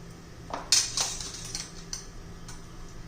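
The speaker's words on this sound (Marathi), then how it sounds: "मोहरी जरा तडतडून घ्यायची आहे" Mustard seeds spluttering in hot oil in a kadhai, a faint scatter of sharp crackles and pops, several bunched around the first second and then sparser ones, with no talk.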